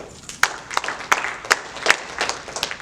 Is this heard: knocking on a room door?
no